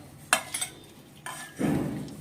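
Brass puja utensils being scrubbed in a small bowl: a couple of sharp metallic clinks and scrapes, then a steadier rough scrubbing rub, close and fairly quiet.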